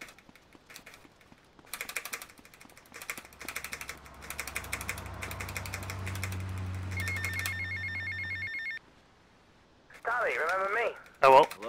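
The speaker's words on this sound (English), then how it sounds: "This might be giving me enough time to take the Lance phone call as well" Phone ringing in GTA: Vice City for an incoming call from Lance, a repeated electronic ring with game sounds and a steady hum underneath, then a voice speaking near the end.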